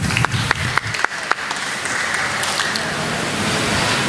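An audience at a felicitation ceremony honouring two singers claps, with a few sharp, distinct claps at first before the applause fades into a soft, diffuse patter.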